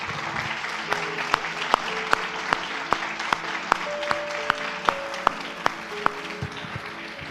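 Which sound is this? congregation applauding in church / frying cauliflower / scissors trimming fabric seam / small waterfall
congregation applauding in church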